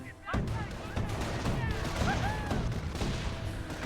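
Anti-infantry gunfire from a German 222 armored car in Company of Heroes rattles in a sustained barrage, with steady bursts and battle noise running throughout the clip.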